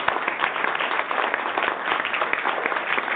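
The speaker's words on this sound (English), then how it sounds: "A big round of applause." An audience at a business panel applauds with steady, dense clapping from many hands, an even sustained patter throughout with no voices above it.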